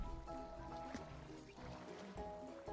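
Soft water splashing and trickling in an animated jungle story, faint and gentle, with light sloshes over a low hum and no talk.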